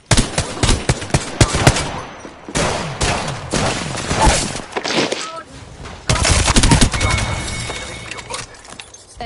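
Gunfire in the battle royale game Apex Legends, near and loud, with repeated machine-gun bursts and rapid volleys in clustered waves and a few brief pauses between them.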